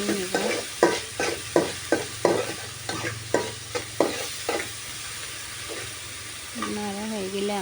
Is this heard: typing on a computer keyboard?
no